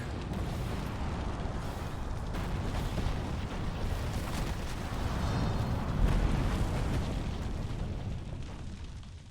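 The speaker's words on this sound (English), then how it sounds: "Hold out until the explosion." An explosion in Resident Evil 3 Remake, heard as a long, loud, rumbling roar of blasts and debris that swells around the middle and continues throughout.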